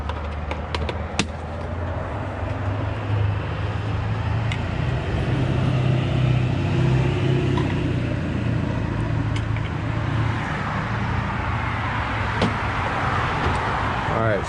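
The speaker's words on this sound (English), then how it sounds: "I'm right next to a busy road." Traffic from a busy road nearby forms a constant low rumble of passing cars and heavier vehicles outdoors in a yard, moderately faint, with occasional sharper clicks and knocks from close by.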